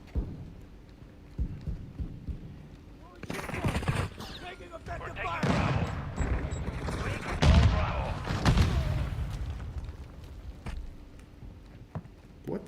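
Gunfire in Call of Duty Modern Warfare II: bursts of rapid shots and heavy booms in a busy firefight, loud and dense in the middle stretch, with voices calling out over the battle.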